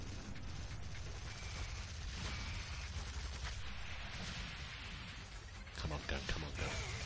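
An electricity gun fires repeatedly in the video game Sanctum 2 amid crackling gunfire bursts and busy combat noise, with a voice talking over the fighting.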